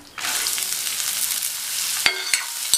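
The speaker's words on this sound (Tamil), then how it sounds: "கேரட்டை நல்லா எண்ணெயிலேயே ஃப்ரை பண்ணிக்கணும்" Finely chopped carrots frying in oil with curry leaves and two dried red chillies give a loud, steady sizzle, with a few sharp spoon taps on the pan near the end.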